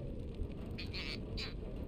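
Frogs croak in the Tails of Iron video game: a few soft, short croaks sound over a steady low rumbling ambience, faint and somewhat distant with no talking.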